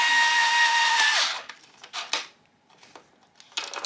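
Bosch cordless drill driving a screw, a loud whining run for about a second that winds down, then a few short clicks and brief bursts of the motor.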